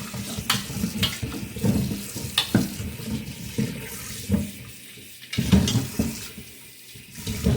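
Tap water splashes unevenly as potatoes are scrubbed and rinsed under it, with bumps and knocks in the sink throughout.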